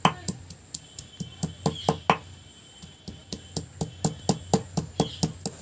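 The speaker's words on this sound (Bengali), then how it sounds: "আদা রসুনটা একসাথে ছিঁচে নেব।" Fresh ginger and garlic are pounded together on a stone to make a paste for a crispy prawn chop. About twenty sharp, hard knocks land in a steady rhythm, close and crisp, with a brief pause midway.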